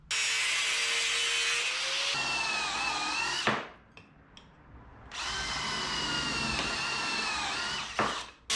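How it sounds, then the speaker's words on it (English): A power cutting tool slices through the metal floor pan of a 1961 Chevrolet Parkwood wagon: loud, close high-pitched grinding and whining in two long bursts separated by a short pause, ending with a quick final touch. "We're gonna cut that off there"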